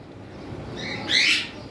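Cockatiels held for sale give a brief bright chirping call, one short rising note followed by a louder shrill burst over a faint background hum.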